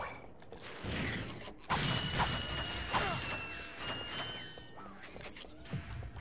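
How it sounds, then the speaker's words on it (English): Manufacturing robot machinery in a Ratchet & Clank factory, clanking mechanical movement with creaks and metallic crashes in an irregular rhythm, steady and fairly close, no talk. "Manufacturing robots."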